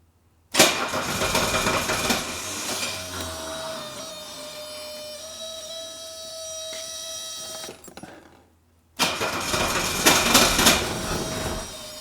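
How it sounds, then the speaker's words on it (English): A Mercedes 300D diesel engine cranks with a rattling whir, falls silent for a moment, then cranks again loudly. "I'm just going to see if it's going to fire"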